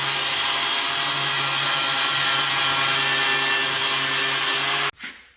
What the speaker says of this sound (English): He's just getting the mill scale off of the metal to get it ready to go.